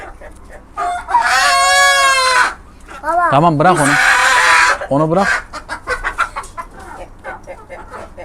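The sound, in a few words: chicken or rooster clucking and crowing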